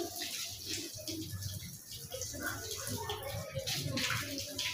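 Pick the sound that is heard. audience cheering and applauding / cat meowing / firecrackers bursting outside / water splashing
water splashing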